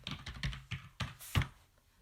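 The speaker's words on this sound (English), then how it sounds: "Type it into the box." A password being typed on a computer keyboard: a quick run of separate key clicks, close and fairly quiet, with uneven spacing and no talking.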